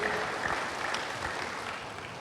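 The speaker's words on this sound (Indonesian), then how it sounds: "Berikan tepuk tangan bagi Tuhan, haleluya." Church congregation applauding together, a steady, dense wash of clapping from many people that holds evenly throughout at moderate volume, with faint voices mixed underneath.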